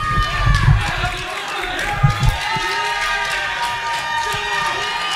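A wrestling crowd cheers and shouts at a live independent show, a broad, sustained roar with whistles and individual yells, thumps from the ring underneath, and a commentator's voice over it.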